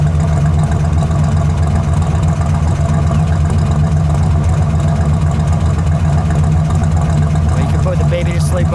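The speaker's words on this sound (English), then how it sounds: "Let me listen to that idle." A 1967 Pontiac GTO convertible's engine idling, a loud, steady low rumble with a drumming beat that runs unbroken throughout, close to the car.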